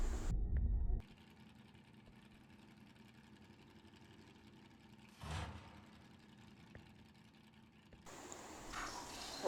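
A generator switched on in a Roblox horror game gives a steady, faint, low mechanical hum that runs for several seconds. A brief swell in the middle leads to a louder, fuller stretch near the end.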